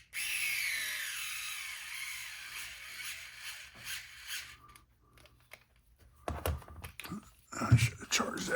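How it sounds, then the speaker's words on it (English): A cordless drill bores through a pinion during a change to a 15-tooth gear, giving a steady whirring whine for several seconds that slows and fades, followed by clicks, handling knocks and someone talking. "Let's see if we can drill this through."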